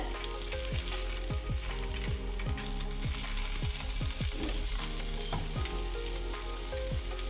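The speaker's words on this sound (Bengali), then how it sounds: "পনিরগুলো ফ্রাই হয়ে গেছে এর থেকে বেশি আমি আর ভাজবো না" Paneer pieces frying in hot oil in a pan, a steady close sizzle broken by a rapid series of sharp spatula scrapes and clinks.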